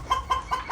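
Hen clucking close by in a home bird yard, three or four quick soft clucks in an even rhythm.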